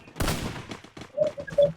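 A short burst of gunfire crackles in the Free Fire Max shooter game, followed by a few brief tonal in-game beeps, quiet and close, all within under two seconds.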